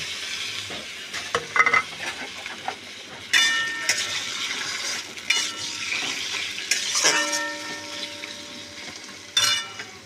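Bombay duck fish fry with turmeric, green chili paste, ginger paste and coriander in a pan: a constant sizzling hiss broken by clattering utensil knocks and scraping as the pieces are stirred.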